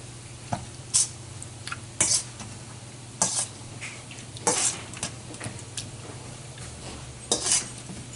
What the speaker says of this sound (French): Je vais prendre mon pile patate et je viens écraser mes tomates.